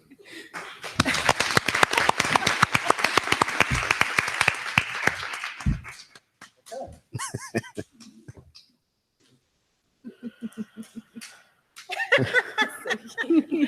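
An audience at a school district board meeting applauds after an oath of office, a long burst of dense clapping that thins into scattered claps, laughter and chatter, then another round of clapping.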